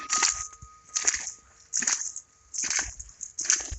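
Five heavy, wet crunching footsteps through slushy April snow, evenly spaced and close by, each with a splashy squelch.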